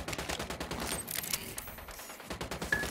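Automatic gunfire in Tom Clancy's Ghost Recon Wildlands video game, rapid overlapping bursts of shots in a steady stuttering rhythm, fairly close and dense throughout the short stretch.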